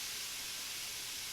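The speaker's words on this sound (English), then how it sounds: "Yeah, you hear that extra sizzle?" Shrimp pressed flat into a hot pan, a loud continuous sizzle with a steady hiss and no pauses.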